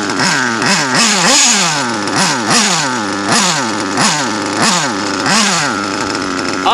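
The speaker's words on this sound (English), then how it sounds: "All that noise and all that brapping right there" Nitro-fuelled engine on a model vehicle revs loud and close in repeated rising-and-falling brapping bursts, about one every second, with a buzzy, chainsaw-like rasp.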